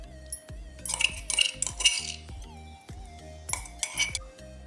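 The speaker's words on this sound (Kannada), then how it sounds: "ಒಂದೇನು ಈತ ಪೂರ ಒಟ್ಟಿಗೆ ಮಿಕ್ಸ್ ಮಾಡುವ" Chicken being mixed with ginger garlic paste, turmeric, lemon juice and spices in a metal bowl, with bursts of spoon clinks and scraping against the vessel in a few close, uneven clusters.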